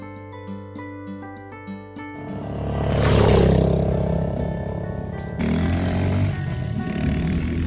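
Engine of a small motorbike starting up and revving during a countryside ride toward a ravine, a loud rough roar rising after an opening musical passage and holding steady near the microphone.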